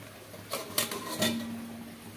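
A lid is set over a cooking pot, giving a few light metallic clinks and taps close by within a quiet kitchen.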